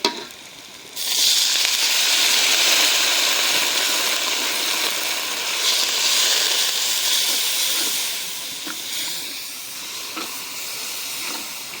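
Water poured onto hot turmeric, chili and coriander powder in a pan sets off a loud, sudden steamy hiss that roars at first, then settles into a steady sizzle with faint crackles.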